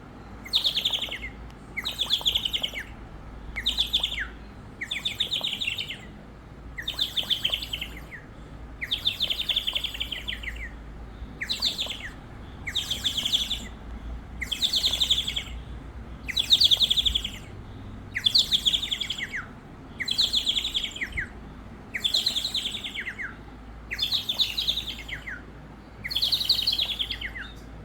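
A water-filled toy bird whistle warbles and chirps in repeated short bursts, about twenty trills in steady rhythm with brief pauses between, bright and close.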